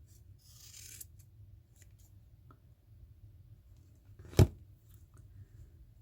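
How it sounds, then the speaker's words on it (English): Scissors snip through the thread loops of a handmade tassel charm, a single sharp close cut standing out against a quiet, faint background rustle. "you're going to take your scissors and cut through all your loops."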